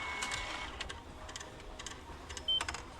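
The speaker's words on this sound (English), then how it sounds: "He's just buying his train ticket." A ticket vending machine in Japan issuing a train ticket, a soft mechanical whirring with quick clicks and a brief high electronic beep near the end.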